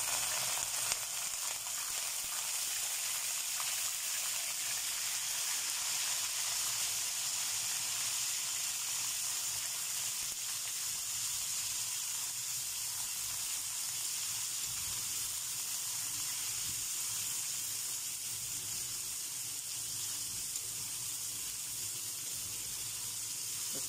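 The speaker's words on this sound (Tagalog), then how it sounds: "Tapos gisahin na natin ang ating ground pork." Ground pork sautéing in a pan with onion for ginisang upo, a steady broadband sizzle that holds evenly close-up for the whole stretch, with no talking over it.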